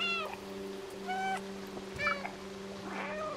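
A cat meows in the video game Stray, several short clear meows spaced across the moment over a steady electronic hum, with no talk.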